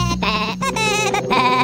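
Sheep bleats loud and close, a wavering, stacked-harmonic cry repeated in three quick bursts, with a shepherd-story setting around it and no other sounds competing.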